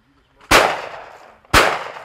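Two loud, sharp shotgun blasts about a second apart as a shooter takes on a pair of clay targets, each a close crack with a short, rumbling tail.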